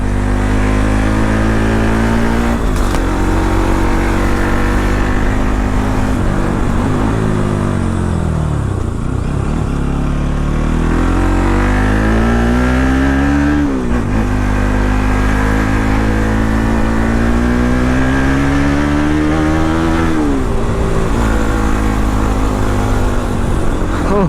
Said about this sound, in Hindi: एग्जॉस्ट के बिना भी इतना खतरनाक साउंड।